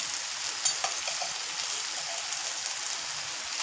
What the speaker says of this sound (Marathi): इथे मी आता जाड आहे हा शेंगदाण्याचा कूट, तो घालत आहे